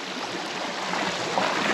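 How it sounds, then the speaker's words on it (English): Water running through a siphon pipe drawn from an irrigation ditch on a hay farm, a steady close rushing flow with no talk. "the water will flow through."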